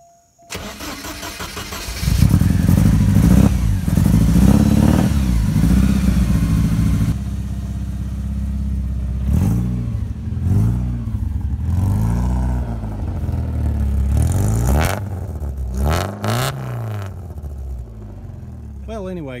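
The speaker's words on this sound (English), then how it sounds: "All right, guys, you may remember this race car. Just gonna try and start it up for you." A 1985 Porsche 944 race car with a vacuum leak cranks, catches and settles into a loud idle, then revs in several sharp throttle blips close by.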